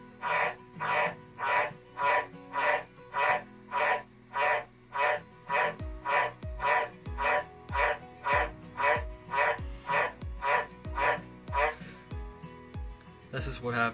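A White's tree frog kept as a pet calls in a steady series of loud, barking croaks, roughly two per second, close by. A deeper rhythmic thumping joins partway through.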